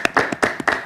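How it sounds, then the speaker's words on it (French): Several sharp hand claps in quick succession, close and fairly loud, with a steady rhythm of about four or five claps and no talking. "Les gars, s'il vous plaît, ça s'applaudit"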